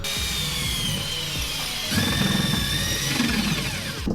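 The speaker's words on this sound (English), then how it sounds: "we got the hole drilled out" A power drill bores a hole through the wall of a jon boat during wiring work, a loud whining motor whose pitch shifts as the bit bites, running steadily and close.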